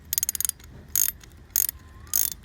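A 17 mm wrench ratcheting a bolt on a 2009 Honda Phantom TA200 motorcycle during an oil change, close and crisp, with a quick run of clicks followed by three separate bursts of ratchet clicking.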